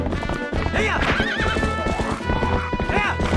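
Horse hooves clip-clopping at a gallop with repeated whinnies and neighs from a horse in Zelda: Twilight Princess HD, loud and continuous against game music.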